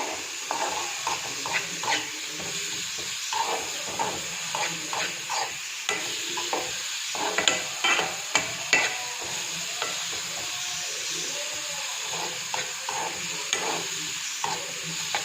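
Tomato and onion with salt being stirred in a hot pan, a steady sizzle under repeated scraping strokes of a spoon, close and fairly loud with a clear uneven rhythm throughout.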